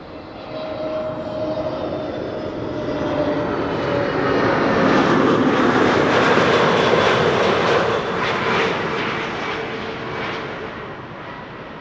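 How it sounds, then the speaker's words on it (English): A Boeing 787-10 airliner operated by KLM arrives at an airport, its engines giving a steady, loud broadband roar that swells to a peak midway and then eases slightly as it passes. "KLM flight 604 arriving from LAX. That's a 787-10."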